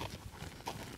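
A horse's hooves clop softly on the ground during a training exercise, a few uneven steps close by and fairly faint, with no voices.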